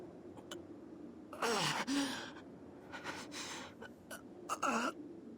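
A character in a Fate/Stay Night visual novel gasps sharply, with a couple of breathy voiced intakes and exhales over low background ambience.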